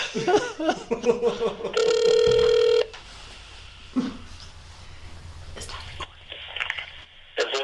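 A cell phone rings during a county commissioners' board meeting, a loud electronic tone burst of about a second standing out amid room talk and clatter, followed by quieter murmuring.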